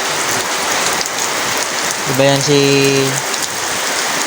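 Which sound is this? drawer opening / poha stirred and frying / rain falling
rain falling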